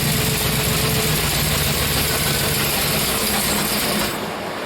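A 1964 Chevrolet Impala's 327 V8 runs during camshaft break-in, a loud, dense, continuous mechanical roar with ticking valvetrain clatter that abruptly drops to a quieter, thinner tone near the end.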